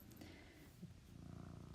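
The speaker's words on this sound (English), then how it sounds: "she's kind of purring right up all over my iPad" A house cat purrs close by, a faint, low rhythmic rumble that carries steadily through a short, quiet stretch indoors.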